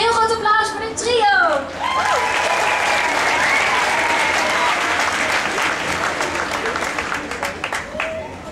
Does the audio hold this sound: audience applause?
yes